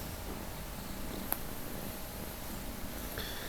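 Mum Cat purrs softly and continuously, close and quiet, with one brief tiny click and faint rustling near the end.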